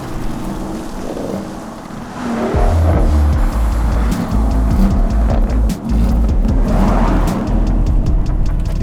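A 2024 Porsche Cayenne S with a V8 engine rumbles at idle, then swells into a loud, deep, sustained growl after about two seconds, close by, with no talking.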